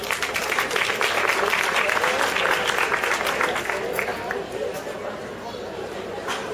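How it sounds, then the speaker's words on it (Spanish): An audience claps after a short presentation at a PechaKucha night, steady sustained applause from a fairly close crowd with some murmured chatter mixed in, fading slightly toward the end. "Un aplauso y que disfrutéis"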